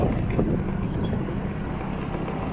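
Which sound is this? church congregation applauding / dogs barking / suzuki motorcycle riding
suzuki motorcycle riding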